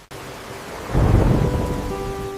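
Rain begins to fall, a soft hiss that swells abruptly into a steady, loud wash of downpour, with faint sustained tones lingering underneath.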